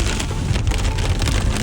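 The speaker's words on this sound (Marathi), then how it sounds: "कंटिन्यू पाऊस आहे, कंटिन्यू." Steady monsoon rain pours down outdoors on the way to a waterfall, a dense, continuous hiss of drops striking surfaces, loud and unbroken with no voices.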